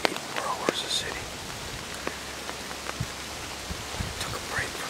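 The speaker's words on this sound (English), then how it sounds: "Like 35 degrees, 15-20 mile per hour wind, pouring rain." Pouring rain falls steadily on a cold, windy day outdoors during a hunting sit, a broad soft hiss with scattered sharp drops and patters, fairly faint throughout.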